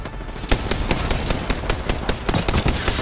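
Rapid automatic gunfire from the video game Apex Legends, a loud sustained burst of closely spaced shots with a few short breaks.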